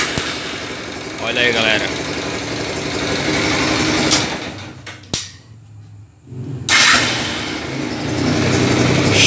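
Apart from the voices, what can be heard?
Yamaha YBR 125 motorcycle engine starting and idling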